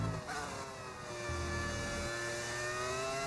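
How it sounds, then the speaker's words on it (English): A modded V10 Formula 1 car engine in the F1 25 racing game at the Qatar Grand Prix, a steady high-pitched whine holding and climbing slightly in pitch, with no talk. "I've modded my game. So we can have an engine regulation change to the V10."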